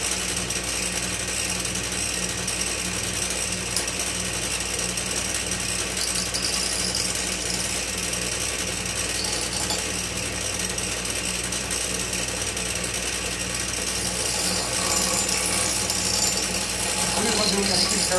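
A power tool buffs a metal edge, a steady dense grinding and whirring drone that runs loud and unbroken the whole time.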